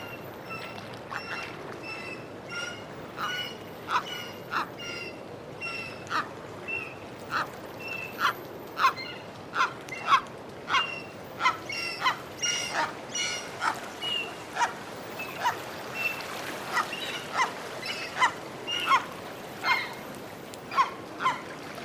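An older gull gives a recorded series of sharp, repeated calls in steady bursts over a faint hiss, moderately loud and alone without talk.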